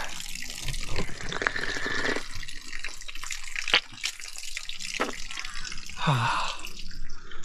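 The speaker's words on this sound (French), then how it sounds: "il faut se laver les mains, ça une main après l'autre, et ensuite se laver la bouche" Water splashing and dripping at a Japanese shrine purification basin in Takachiho, as hands are rinsed one after the other, close and irregular, with trickles and drips over outdoor ambience.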